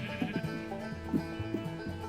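Several short sheep bleats from a video game sheep trapped in a glass bottle in front of a dispenser, repeated at close range over a low background hum with no talking.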